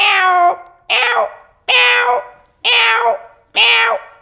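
A man imitates a cat meowing, giving five loud, drawn-out meows close to the listener, evenly spaced with short pauses between them.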